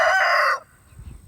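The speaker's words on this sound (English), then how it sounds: "there's the rooster, always wanting to know what's going on" A rooster crows near a solar kiln build, a single loud, close call cut off after about half a second, followed by faint low background noise.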